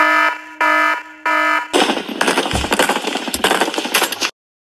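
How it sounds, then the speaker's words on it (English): Three evenly spaced electronic alarm beeps sound in a war video game, then a dense burst of chaotic game noise and rattling fire follows before cutting off abruptly. "Sound the alarm!"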